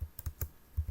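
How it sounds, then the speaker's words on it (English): Terminal commands typed on a computer keyboard, heard as a quick, close run of about seven crisp key taps in an uneven rhythm, with no voices. "So let's get started while I type the commands line by line."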